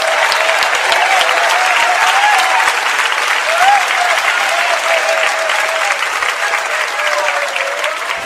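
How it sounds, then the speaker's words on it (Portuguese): A church congregation claps hands together in loud, sustained applause with some voices rising through the crowd noise for the whole stretch. "batam palmas e glorifiquem ao Senhor"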